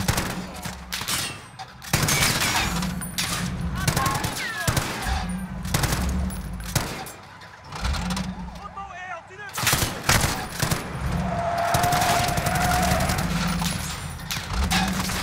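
Heavy gunfire rattles in Call of Duty Modern Warfare during the "Old Comrades" mission, with rapid automatic bursts and dense volleys cutting in and out. The shooting is loud and close, with brief pauses between firefights.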